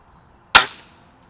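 A single sharp shot from a Weihrauch HW-50S spring air rifle firing 7 grain Meisterkugeln pellets in a backyard, a crisp crack that decays quickly after a quiet lead-in.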